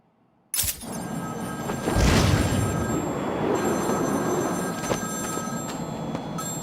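A payphone rings in Batman: Arkham City as Zsasz calls, the bell starting abruptly and ringing on steadily against a low rumbling city backdrop.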